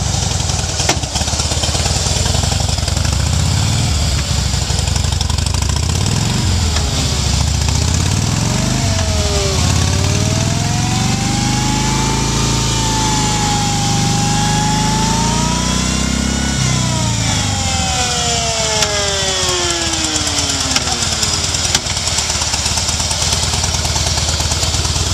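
A Harley-Davidson motorcycle runs close by for a long stretch, its loud, continuous engine drone rising and falling through several slow revs and long sweeping pitch changes, with no one talking.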